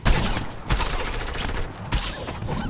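Rapid bursts of gunfire in Fortnite crackle in a dense, continuous barrage, with sharper shot onsets punching through at intervals over steady game noise.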